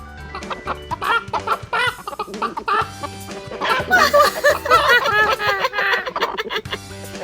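Chickens cluck and squawk nearby in a lively, overlapping chorus, with bursts of excited calling rising and falling over several seconds.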